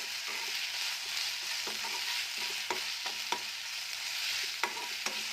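Soya chunks with ginger-garlic paste and spices stir-fried in a pan, giving a steady dense sizzle with a few sharp scrapes and clicks of a spatula spread through.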